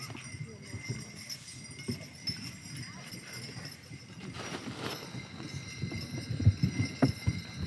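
Faint clip-clop of a single horse's hooves pulling a sleigh on a hard surface in snow, irregular and somewhat distant, growing a bit louder near the end amid background noise.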